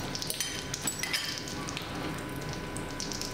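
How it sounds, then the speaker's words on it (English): Eggs sizzle in melted butter in a frying pan, cooking for a mushroom omelette with no oil, giving a steady, close crackling hiss with scattered sharper pops throughout. "Can you hear that lovely sizzle"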